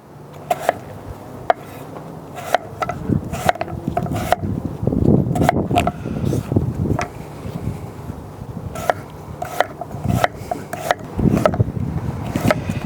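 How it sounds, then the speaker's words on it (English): A knife slicing vegan jerky strips into quarter-inch pieces on a board, with repeated short cutting taps and scraping strokes in a steady uneven rhythm, close and moderately loud. "And now I'm just going to slice them probably into about a 1/4 inch thick piece."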